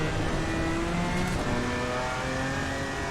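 A GT4 racing car engine in a racing video game roars and revs steadily in the rain at Bathurst, echoing off walls as if enclosed, with a constant hiss of spray and rain layered over it.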